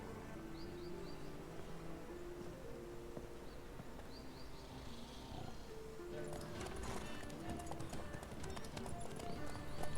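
Horse hooves clip-clop at a steady walking pace in The Witcher 3: Wild Hunt, with faint game ambience, occasional bird chirps and soft jingling.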